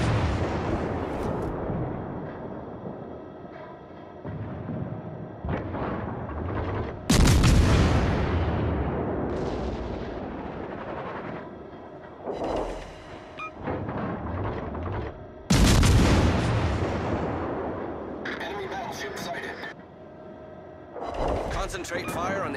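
Naval gunfire from warships in World of Warships: Legends, heavy booming salvos striking several times with long rumbling decays, mixed with game voice callouts.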